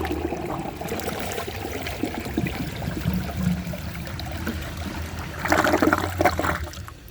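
A 1999 Universal-Rundle Atlas comfort-height open rim toilet flushes: a close, rushing swirl of water that churns steadily, then surges louder near the end as the bowl drains.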